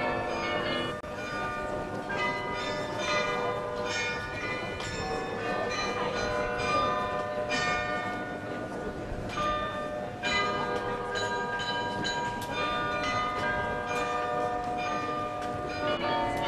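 The carillon of Munich's town hall (Rathaus) chimes in 2010, a steady run of ringing bell strikes playing a tune, with the bells clear and resonant in the open square and overlapping ringing tones.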